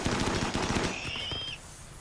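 Rapid gunfire in a Rimworld 1.6 fight, a dense burst of automatic shots that thins into scattered reports before fading, with a brief high whine mid-way.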